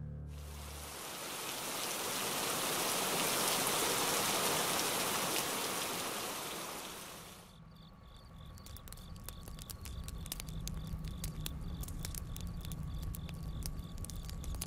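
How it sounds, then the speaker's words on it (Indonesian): Heavy rain roars steadily for several seconds, then fades into a quieter patter with insects chirping and faint clicks behind it. "hujan langsung turun lebat."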